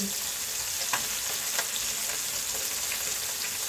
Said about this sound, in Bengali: মজাদার এই মাছগুলো ভাজা হচ্ছে